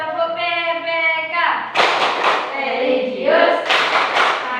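A class joins in the rhythmic Tepuk PPK clapping game, with bursts of group clapping breaking in between stretches of voices chanting together.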